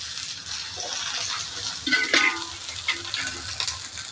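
Half a spoon of oil is added to a small spoon-sized pan and sizzles and crackles briefly, a close, bright hiss that swells for a moment.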